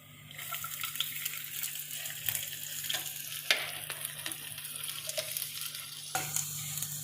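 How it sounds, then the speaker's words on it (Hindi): Cumin seeds crackle and sizzle in hot oil in a pan: a steady frying hiss with scattered sharp pops and a few clinks of stirring throughout, at moderate volume with no voices. "जैसे ही जीरा क्रैकल होने लगे आप इसमें ऐड कर देंगे अदरक"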